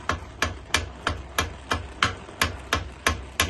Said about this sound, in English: I hit the vise jaw, but I did not hit the other piece.